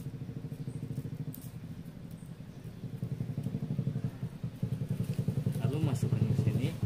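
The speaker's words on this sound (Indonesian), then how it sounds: "ada motor tuh, nggak apa-apa lah" A motorcycle engine runs nearby during coconut-stick plate crafting, a steady low rumble that swells a little louder toward the end, with a voice talking over it.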